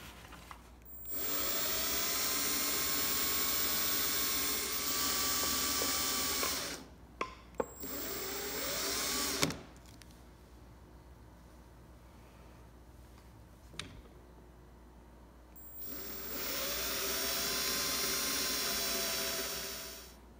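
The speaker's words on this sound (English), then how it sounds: "So I'm gonna drill out these holes and then we'll be back." A power drill bores out axle holes in a painted wooden Pinewood Derby car, two sustained whining bursts separated by a quieter pause with clicks, close and loud, with no voices.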